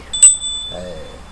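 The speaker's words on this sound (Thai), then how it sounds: "เดี๋ยวอาจารย์จะสั่นกระดิ่งโชคลาภแห่งความสำเร็จนะครับ" A hand bell, rung as a lucky bell, gives one sharp bright ring that lingers with a sustained tone, followed by a brief voice sound.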